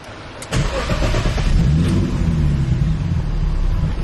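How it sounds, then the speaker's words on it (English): A turbocharged BMW M50 engine in an E30 running rough, a loud steady rumbling idle with a brief start-up surge near the beginning, continuing unevenly with no talk. "the car running like shit right now"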